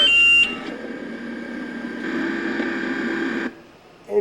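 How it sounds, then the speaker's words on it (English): Two alarms on electronic news-gathering truck equipment sound together, one a high steady tone and one a lower, buzzing tone, running for a few seconds under background hum before cutting off. "And there's two alarms."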